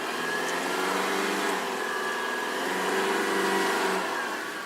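Outboard motor on a 2007 Bennington 2250 RL tritoon pontoon boat on the water, a steady whirring drone with rushing water as the throttle is eased on gradually, without sharp revving and with no voices.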